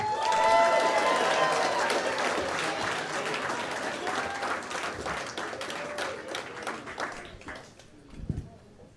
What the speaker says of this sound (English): Make sure you give him an extra special big round of applause